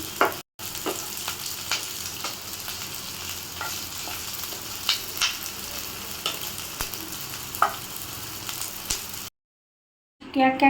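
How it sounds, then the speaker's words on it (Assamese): Onions frying in a pan for Vegetable Manchurian, a steady crackling sizzle with occasional louder pops, running continuously with no talking, then a brief silence near the end. "পিঁয়াজখিনিও সামান্য পৰিমাণৰ মই ভাজি ল'ম।"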